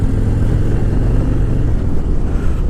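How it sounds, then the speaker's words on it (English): A 2018 Harley-Davidson Softail Heritage Classic on stock exhaust rumbles loudly and steadily on a ride, a deep, continuous engine drone with no voices over it. "It's got a little bit of grunt to it with the stock exhaust"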